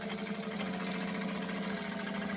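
A sewing machine runs steadily while top stitching fabric, a continuous close mechanical hum with a fine rapid needle rhythm that holds unchanged throughout.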